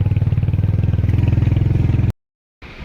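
A motorcycle engine chugs loud and close in a fast, even pulse as it climbs up toward a gurdwara parking area at Gobind Ghat, then cuts off abruptly before faint background noise returns.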